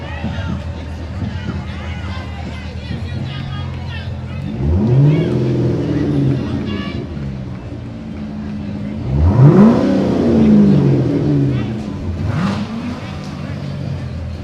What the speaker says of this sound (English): You'd think we were at the Indy 500 with the roaring of the engines.